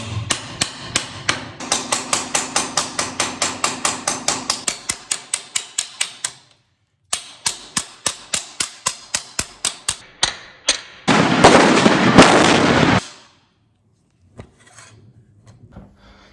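Rapid, evenly spaced metal hammer strikes on a Ducati Panigale 1199 motorcycle part in long runs with brief pauses, loud and close, followed by a burst of rattling noise.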